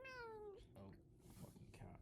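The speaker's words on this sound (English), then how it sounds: "Oh, fucking cat. Oh, mate, get off." A cat meows once near the start, a long clear falling cry, followed by someone talking loudly close by.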